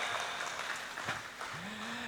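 Audience applause at a dance performance, a steady wash of clapping from a crowd, with a brief low voice near the end.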